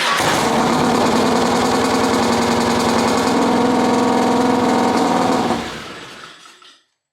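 A Harley-Davidson Road King anniversary model motorcycle engine runs loud and steady at a close, even idle with a dense rhythmic beat for about five seconds, then cuts off and fades to silence.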